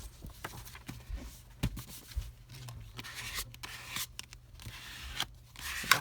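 Scissors snip through paper for an envelope pocket craft, making close, quiet, irregular cutting strokes with rustling and scraping between the cuts.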